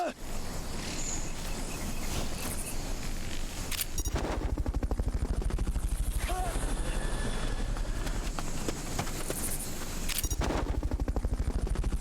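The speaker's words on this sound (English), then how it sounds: "Fulton recovery subject confirmed onboard helicopter" Helicopter rotor noise from Metal Gear Solid: Peace Walker HD on Xbox Series S: a loud, steady mechanical drone running throughout, with sharp bursts near four and ten seconds.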